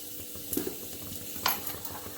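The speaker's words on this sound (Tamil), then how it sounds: "கடுகு உளுத்தம் பருப்பு கொஞ்சம் சீரகம் கொஞ்சமாக பெருங்காயம் போட்டுக்கலாங்க" Mustard seeds, urad dal and cumin tempering in hot oil give a soft continuous sizzle with a few quick crackles and pops near the start and middle.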